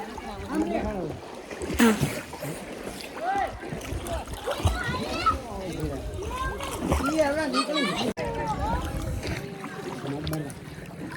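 Friends swim in a deep village pond, and splashes of water come through under almost constant chatter and children's voices close by.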